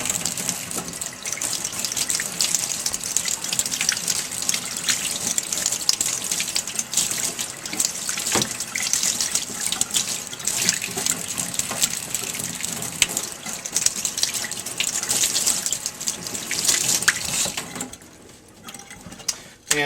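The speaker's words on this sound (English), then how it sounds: "I'll just go ahead and give them a good thorough rinse." Steady tap water rinses catfish fillets at a sink, a continuous hissing gush with small splashy variations that holds for most of the stretch before cutting off near the end.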